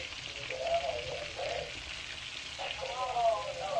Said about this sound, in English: I'm going to let this fry a little bit more